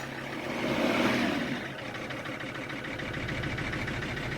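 A cold engine with the MAF sensor connected is revved with the gas, rising to a rough swell and then settling into an uneven, stumbling, sputtering idle with a knocking pulse, close and moderately loud.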